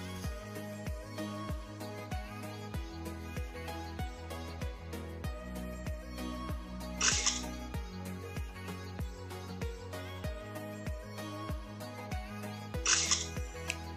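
Camera flash and shutter snap effects added in the KineMaster editor: two bright, crisp snaps about six seconds apart over a steady, rhythmic pulsing beat.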